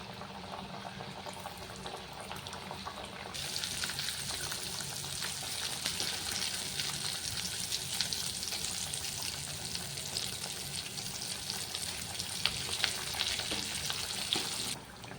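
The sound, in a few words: wheat flour snack dough deep frying in oil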